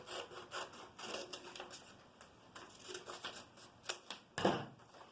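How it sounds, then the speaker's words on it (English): Crappy pair of scissors snipping through a paper face mask pattern, a run of close, dry crisp cuts and rustles in irregular bursts, with a louder scrape near the end. "with your crappy pair of scissors."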